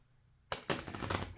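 Playing cards for the Mini Rogue board game are riffled in a quick shuffle, a sudden close burst of rapid fluttering clicks after a quiet start.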